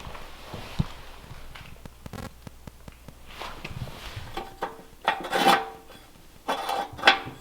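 Rust is scraped and rubbed off an old cast iron pot belly wood stove, producing close, irregular rasping strokes and scuffs of varying loudness, with some clanks and quiet gaps between bursts.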